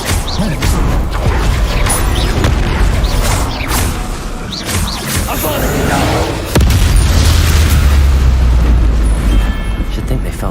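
Confringo blasting-curse explosion in the Hogwarts Legacy wizarding game, a loud booming blast with rumbling crashes and creaks over dense effects, the low rumble swelling in the second half.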